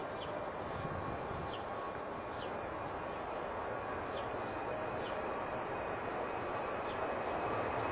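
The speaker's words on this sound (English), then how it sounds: "Gentle takeoff." An airliner takes off from Bristol Airport, its engines producing a steady, broad roar that holds at an even level for several seconds with no one speaking.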